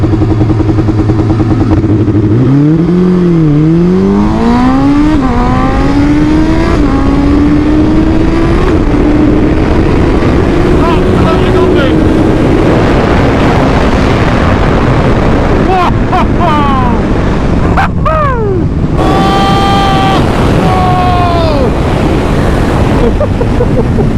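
A Suzuki Hayabusa motorcycle roars hard at a drag race track, rising steadily through the gears. Close, loud wind noise buffets over everything, and a voice shouts over the climbing engine.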